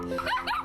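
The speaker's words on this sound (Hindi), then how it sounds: "अचानक से बाहर से दो कुत्तों के भौंकने की आवाज सुनाई देती है।" Outside a house in a Hindi cartoon, dogs give short yips and barks close together in a quick, brief burst, with no talk over them.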